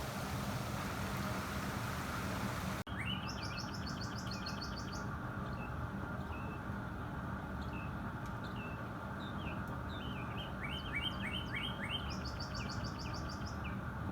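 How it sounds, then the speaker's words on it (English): Backyard birds chirp and twitter in repeated bright bursts on a rainy day beside a brisket barbecue, moderately close over a constant soft hiss of rain. "It's nice, we have all kinds of birds in the yard."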